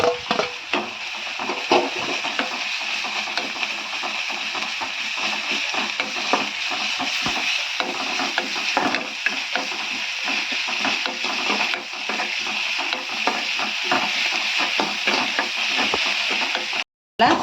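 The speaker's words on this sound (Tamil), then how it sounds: "இப்போ இஞ்சி பூண்டு சேர்த்துக்குவோம்" Ginger and garlic frying in a pan while being stirred: a steady hissing sizzle runs throughout, close and fairly loud, with frequent light scraping and tapping of the spoon against the pan and no talk.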